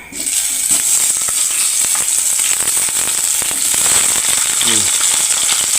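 Salted peda fish fries in hot oil, a loud close crackling sizzle with dense popping spits running continuously for about six seconds, a faint voice briefly underneath.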